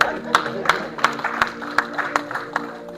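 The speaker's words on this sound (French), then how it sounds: "Clap for yourself. Applaudis pour toi-même." A church congregation claps in a steady, even rhythm, loud and close, with voices and sustained tones underneath.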